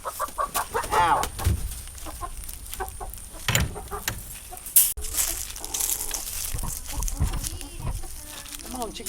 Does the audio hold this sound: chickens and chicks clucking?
yes